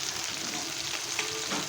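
Pointed gourd sautés with spices and turmeric in a pan, giving a dense, even sizzle with light stirring scrapes throughout.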